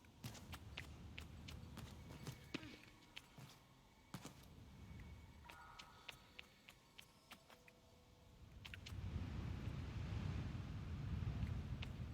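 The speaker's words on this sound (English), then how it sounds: "It's very windy up here." Wind blows in the game Sable, a low rumbling gust that builds and swells toward the end, mixed with frequent sharp footstep-like clicks and no talking.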